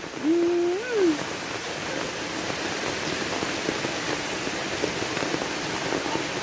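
Heavy rain pours down during a flood while water streams away from a house, a dense, steady hiss of rainfall and flowing water throughout, broken near the start by a brief whistling tone.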